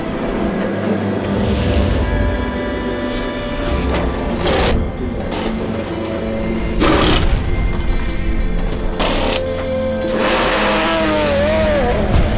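GT race car at Le Mans driving through Tertre Rouge onto the Mulsanne straight, a loud engine drone with rising and shifting revs, heard close and continuous without talk.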